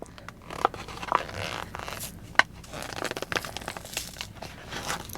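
Packaging of official Netflix merch is opened by hand, giving irregular crinkling, rustling and tearing sounds with a few sharp crackles, close and fairly loud.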